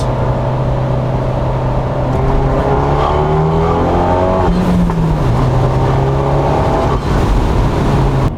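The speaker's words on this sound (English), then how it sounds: "We'll sneak in one more little pull with the windows open, see how it sounds." Loud Fiat 124 Spider Abarth engine with upgraded coil packs revving through an acceleration pull, pitch climbing steadily, a brief dip as it shifts, then climbing again, heard from inside the car with windows open.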